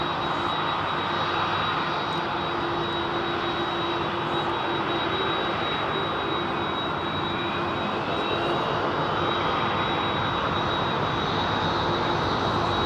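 A piston-engined Lockheed Constellation with wingtip tanks flies at Heathrow, its continuous engine drone steady and fairly distant, with a faint tonal hum running through it and no talking.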